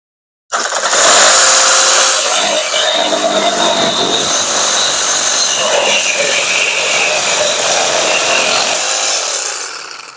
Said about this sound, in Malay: Kita akan memotong besi olo ya.